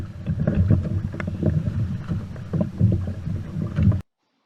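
A Hobie Tandem Island sailing kayak slides through water, its hull giving off a steady splashing, sloshing wash under a light rush of wind before cutting off abruptly near the end.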